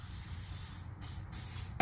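An aerosol can hisses in short bursts onto the rear strut bolts of a 2003 Nissan Maxima, close and steady, with a couple of brief pauses between sprays.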